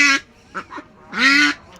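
A duck quacks loudly and close, two harsh calls with short softer sounds between them.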